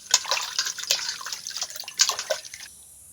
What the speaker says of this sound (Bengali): এই আমগুলোকে আমি ধুয়ে খোসাটা ছাড়িয়ে নেব।